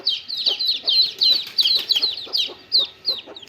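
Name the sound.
mother hen clucking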